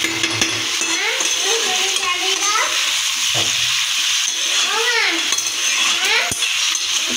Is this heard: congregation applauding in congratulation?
no